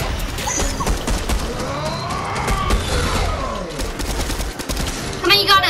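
Gunfire in the Fortnite video game comes in rapid bursts with crashes and impacts over a busy in-game mix, loud and close, with some chatter at the end.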